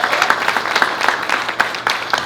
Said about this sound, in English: Please give him a round of applause for being here.